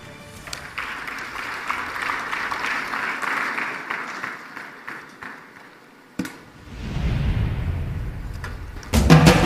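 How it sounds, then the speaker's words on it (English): An audience at an energy summit applauds a speaker being introduced, a broad sustained round of clapping that fades, followed by a brief lull and a burst of rumbling noise before clapping rises again. "A round of applause."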